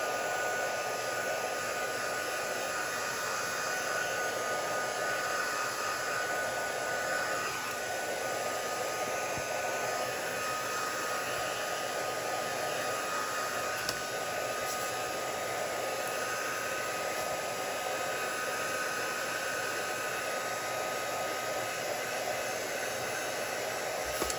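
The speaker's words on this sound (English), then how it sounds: "so I might just run over the heat tool quickly" A heat tool blows continuously over a damp watercolour card piece, producing a steady, loud, even whooshing hum that runs without a break from start to finish.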